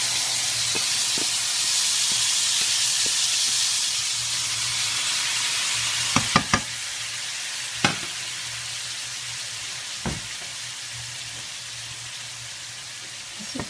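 Onion, garlic and bay leaf fry in oil for a sofrito, making a steady bright sizzle with occasional sharp pops and clinks of a utensil stirring the pan.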